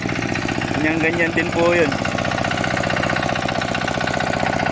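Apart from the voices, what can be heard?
engine of a borrowed machine running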